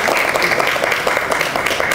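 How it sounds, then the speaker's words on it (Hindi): A dense, continuous patter of clapping from an audience at a book launch, steady and loud throughout. "भरपूर तालियाँ होनी चाहिए।"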